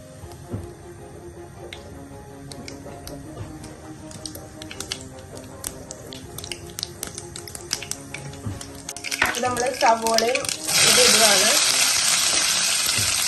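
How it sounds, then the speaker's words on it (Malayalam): Mustard seeds spluttering and popping in hot oil in a pan for a Kerala beans thoran, rapid crackles under soft kitchen noise, then louder bursting and a steady loud sizzle as more goes in near the end. "ഞങ്ങൾ കടുക് ഇടാൻ പോവാണ് ഇച്ചിരി ഇടുന്നതാണ് അപ്പം അത് പൊട്ടുമ്പോൾ"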